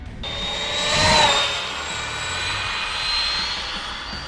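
An electric RC speed car motor whines steadily through a pass, a loud sustained high-pitched drone that swells and eases slightly as the car goes by, with no speech.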